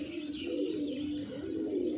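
A Punjabi Malwai pigeon pair cooing close by, a soft continuous low murmur of coos with faint chirps, steady throughout and free of speech.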